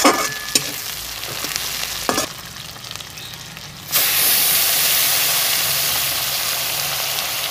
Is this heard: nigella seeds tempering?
yes